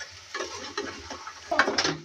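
Chickpeas tipped onto a frying spice masala with potatoes in a pan and stirred, giving soft scraping and clinks of a spoon against the pot over a faint sizzle, with a brighter burst of stirring near the end.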